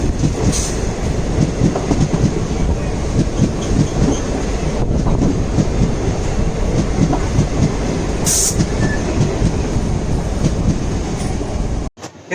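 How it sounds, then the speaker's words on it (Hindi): Rocket Express passenger train running past, a loud continuous rumble of wheels and carriages with rail clatter and a brief high squeal, lasting throughout before cutting off abruptly. "काफ़ी लेट आज रॉकेट एक्सप्रेस के दर्शन हुए।"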